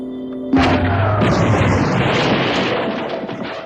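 A sudden heavy blast from a cartoon mini plasma cannon erupts after a soft hum, with a booming, crackling burst that rumbles and slowly decays.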